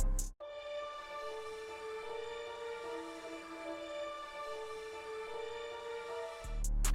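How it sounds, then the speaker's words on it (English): Synth pad and strings from a dark ambient loop, stretched in resample mode into a smeared, sustained drone with slowly gliding tones. It stays quiet and continuous for about six seconds, then cuts off abruptly. "I ended up stretching it with the resample mode, and that made it sound like this."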